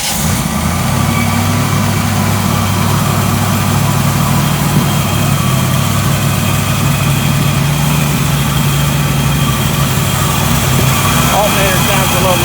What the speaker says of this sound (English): Alternator sounds a little noisy to me, but motor itself sounds good